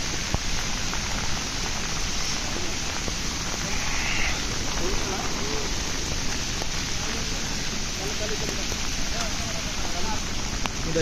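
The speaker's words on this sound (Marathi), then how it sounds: "एवढा पाऊस आहे की नदीला पण लयच पाणी येतं" A dense, steady wash of heavy monsoon rain at Tamhini Ghat, India, hisses without pause throughout, loud and close, with faint murmurs beneath it.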